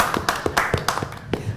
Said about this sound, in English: you can applaud the audience, too.